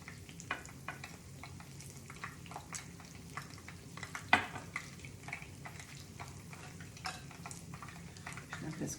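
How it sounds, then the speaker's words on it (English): Coconut shrimp frying in a little oil in a small skillet, a quiet, even sizzle peppered with soft pops and one sharp clink partway through, no voices. "Shrimp is cooking good."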